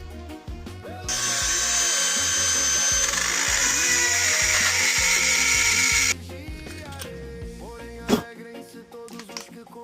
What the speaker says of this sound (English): make this guy to work again with a very small drill bit. We're going to drill right here.